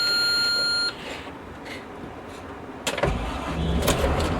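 A 2013 Blue Bird All American passenger bus engine starting: an in-cab warning beep sounds first, then after a pause the diesel cranks and catches into a loud, steady rumbling idle close by.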